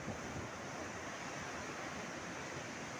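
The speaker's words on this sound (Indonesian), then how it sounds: "Saat angin bertiup kencang seperti ini" Steady broadband roar of surf at a beach and gusting wind buffeting the microphone, constant and fairly loud, with no voices.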